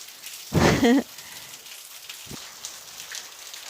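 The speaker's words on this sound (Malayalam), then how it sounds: "നല്ല മഴയാണ്" Heavy rain falls outdoors as a soft, even hiss throughout, briefly interrupted near the start by a short voiced sound and later by a faint thump.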